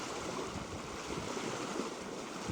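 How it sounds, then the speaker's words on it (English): A boat moves through calm Alaskan water near a tall waterfall, heard from a quiet stern as a steady close wash and rush of water with a faint wind rumble. "boat going through the water."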